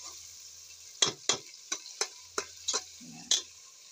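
Browned onions and garlic in a pan, for a home-cooked Pakistani dish, are stirred with a soft background sizzle, punctuated by about seven sharp scraping clicks of a utensil against the pan, fairly quiet and close.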